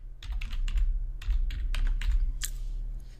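Fingers typing on a computer keyboard, a close run of quick key clicks in uneven bursts over a low steady background hum, with no talking.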